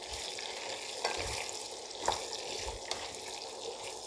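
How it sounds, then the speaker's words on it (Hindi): Mixed vegetables, carrot, cauliflower, radish and chilli, are stirred for pickle in a pan over a low flame, with a wet hissing sizzle and occasional spoon knocks, close and steady, with no voices. "इसको अच्छे से मिक्स करते हैं"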